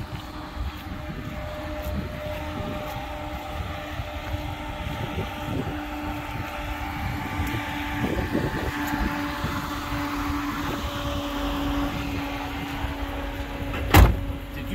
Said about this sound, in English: It's the auxiliary fan. It's the electric fan in the front.